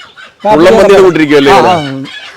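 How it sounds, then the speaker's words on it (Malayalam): Loud, close rooster crow drawn out over a couple of seconds on a native chicken farm, with soft clucking from hens just before and after it. "ഇതൊരു റെഡ് ആൻഡ് വൈറ്റ് കോഴിയാണിത്"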